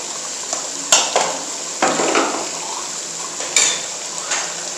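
Spices being stirred and mixed in a pan for chicken gravy, a spoon scraping and clinking against the metal in short strokes over a steady faint sizzle, close and with no talking.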